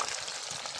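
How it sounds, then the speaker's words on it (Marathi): Chilapi fish frying in hot oil over an open fire outdoors, a steady hissing sizzle that fills the brief moment without pause. "तो मित्र आता आम्ही चिलाप्या तळून राहिलो"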